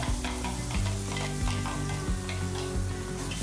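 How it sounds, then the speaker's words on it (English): Onion, garlic and ginger sauté in hot oil with cumin seeds, ajwain and hing, giving a steady sizzle throughout while a utensil scrapes and stirs the pan in repeated strokes, close up with no talking. "I sauteed everything until the onions turned golden brown."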